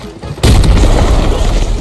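A sudden loud explosion in the video game Arena Breakout bursts in and rumbles on with a heavy, sustained roar.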